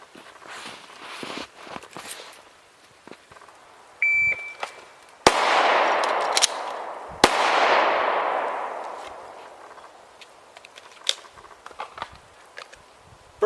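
Glock 17 pistol with a Trijicon RMR fired during a drill with draws from an outside-the-waistband holster; two sharp, loud shots a couple of seconds apart, each trailing off, amid scattered outdoor clicks and shuffling.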